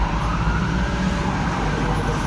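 Ambulance siren on an emergency vehicle passing along a street, loud and steady throughout, blending with road traffic noise, with no voices present.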